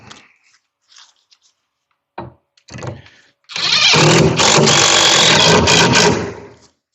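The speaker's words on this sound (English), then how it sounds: "we back with the impact driver and a new battery" A cordless impact driver with a fresh battery rattles loudly in a sustained burst of about three seconds, nearby, after a few short clicks and taps.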